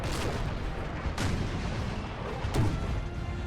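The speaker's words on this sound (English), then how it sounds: "We've got a lot of artillery here from Prussia." Massed cannon fire from Prussian 6-pounder artillery batteries in the Napoleonic battle game Napoleon Total War, a dense rumbling barrage with a few sharper booms standing out over continuous battlefield noise.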